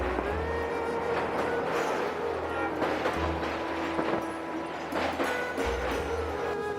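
Somnath Intercity Express running near Sabarmati railway station, a steady rumble of the moving train with rhythmic low thumps of the wheels over the rail joints and a constant hum, heard from on board, with no talking.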